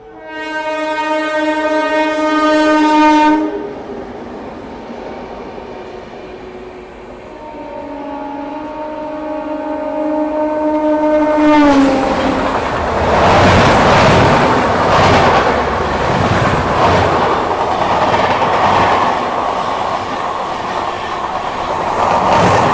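GT Express train passing near a railway crossing, opening with long loud horn blasts, then a second horn call before the roar and rhythmic clatter of wheels and carriages builds and rushes past close by.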